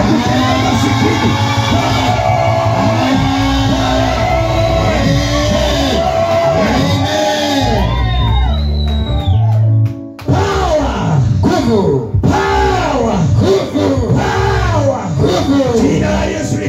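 A church congregation ululates loudly and at length in overlapping, wavering high trills, with shouts and cheers mixed through the crowd and a brief dip before the trilling swells again.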